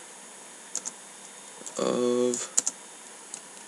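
Brisk clicking of keys on a computer keyboard, a few light taps then a short quick burst, fairly close and moderately quiet over a steady electronic hum, with a brief spoken word.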